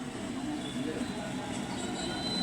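A train rumbles steadily at a railway station, a continuous low roll of wheels on track heard from a moderate distance with no clear breaks.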